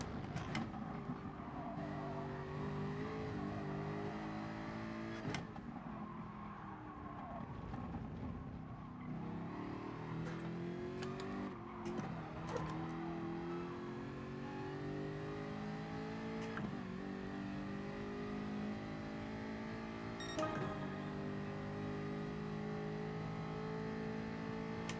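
A McLaren race car in Gran Turismo holds a steady, high-revving engine drone, with shifts as the pitch climbs and drops. The engine runs continuously throughout, with occasional sharp clicks and tyre noise.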